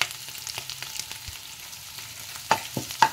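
Curry leaves sizzling in hot oil in a pan with cooked potato for sabudana khichdi, a soft crackling fry with a few sharp pops and stirring taps, close and without talk.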